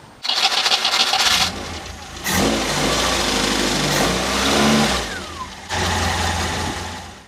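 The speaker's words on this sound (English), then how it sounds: "So I'll just start the engine and rev it" A Ford Escort Mk2 engine with a rebuilt carburettor and fuel pressure regulator cranks and catches, then revs up and down in several loud, close bursts with a short dip between them, and no one speaks.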